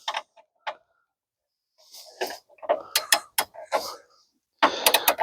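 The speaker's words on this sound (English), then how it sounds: "Okay, I'm going to torque this into" A torque wrench tightens the driver's side engine mount bolt on a 2013 Dodge Dart, giving short bursts of metallic ratcheting clicks separated by quiet pauses, close by.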